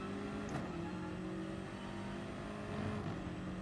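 Race car engine in Gran Turismo Sport holding a steady, droning pitch under acceleration, loud and continuous, with a brief rising whine at the start and no talk.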